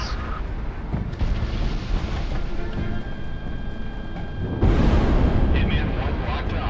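Heavy rumbling artillery blasts in the Project Wingman jet combat game, a dense booming roar that swells sharply louder about two-thirds through, with a voice talking underneath.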